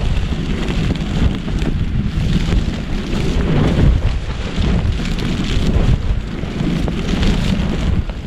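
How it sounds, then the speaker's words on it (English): Strong winter wind roars without a break in the UK mountains during a storm, loud, gusting and buffeting the microphone around a small tent at a wild camp. No voices are heard. "these winds are really whipping up"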